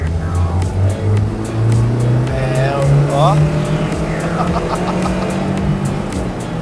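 Two 1990s sport cars, a VW Gol GTi and a Chevrolet Kadett GSi, accelerate hard side by side in a race, their engine notes droning and rising together, with brief shouted exclamations over the roar.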